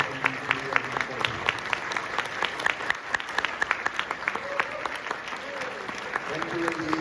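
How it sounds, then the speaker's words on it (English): An audience at a furry convention closing ceremony applauds the staff, steady clapping from a crowd filling the room, with a few individual claps standing out above the rest and faint voices underneath. "please give them a huge round of applause again"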